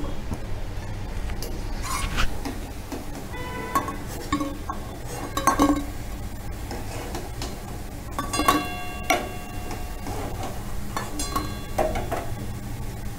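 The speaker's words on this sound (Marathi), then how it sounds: "आता आपण एका प्लेटमध्ये काढून घेऊ गॅस कमी करू" Fried oats manchurian being lifted out of the pan onto a plate, giving scattered light metallic clinks of utensils against cookware over a low background hiss, with no talking.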